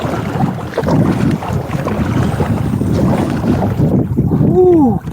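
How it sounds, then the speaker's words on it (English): Strong gusting wind buffets the microphone outdoors, a loud, continuous roaring rumble throughout, with a brief voiced sound near the end. "That wind's tough."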